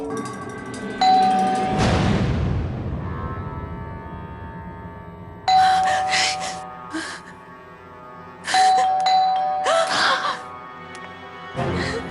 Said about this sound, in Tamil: பெல் அடிக்கிறாங்க.